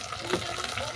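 Chopped tomato dropped into a pan of frying potatoes and bitter gourd, a brief soft sizzle and hiss of hot oil.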